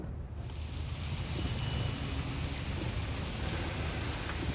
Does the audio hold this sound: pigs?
no